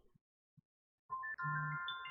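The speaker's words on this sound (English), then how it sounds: "Sounds like someone's phone. Oh, someone's alarm." A phone alarm chimes with bright electronic tones after a couple of faint taps, ringing steadily and fairly quietly.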